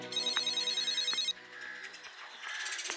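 A telephone rings in a home setting, a repeating electronic ring tone that sounds steadily for about a second and a half, then fades under softer background sounds with faint bird calls.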